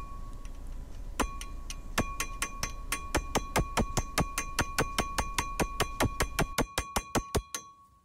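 Screw heads on a Peugeot 208 brake disc being tapped with a hammer, a close series of about two dozen sharp metallic clinks at a steady, slightly quickening pace, ringing lightly before stopping.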